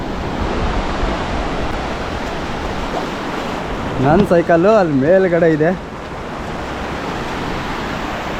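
Sea waves wash onto Digha beach in West Bengal in a continuous broad hiss and roar, while someone talks close to the microphone partway through.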